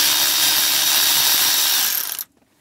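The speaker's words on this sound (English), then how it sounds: "Best things I have bought in my lifetime is cordless impacts." A Milwaukee cordless impact driver runs in one loud, steady burst of whirring for about two seconds, then cuts off abruptly into near silence.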